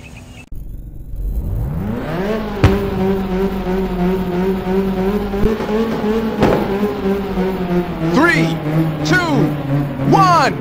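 In Ridge Racer 2, race car engines rev in a sustained, rising whine that swells after a sharp start, with several cars roaring together close by, a few sharp clicks, and quick pitch sweeps near the end.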